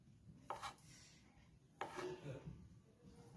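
A knife cutting a soft cutlet mixture into shapes on a board, two distinct close knife strikes with a brief scrape after each, quiet overall against a faint background and with no talking.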